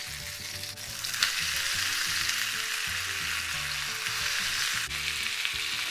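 Capelin frying in a pan under a lid, a steady dense sizzle and hiss of hot oil close up, with a couple of faint clicks and no voices.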